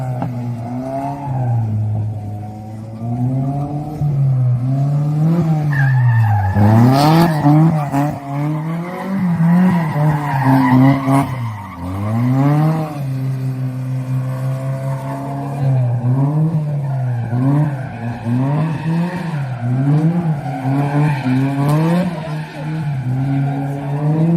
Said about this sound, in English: Here's a bit of rally racing in town in central Portugal.